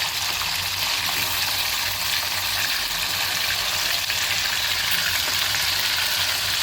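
About 150 to 200 grams of paneer fries in hot oil, giving a loud, constant broadband sizzle that holds steady without pause for the whole stretch.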